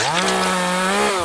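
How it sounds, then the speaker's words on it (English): A chainsaw in a film scene whines steadily at high revs, loud and close, with its pitch dipping slightly at the end. "Todd shouts for him to grab the chainsaw"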